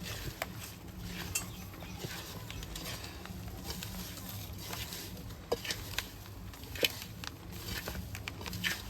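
Steady rain patters outdoors at a village cooking spot, a dense even hiss with scattered louder drips and taps throughout, no voices.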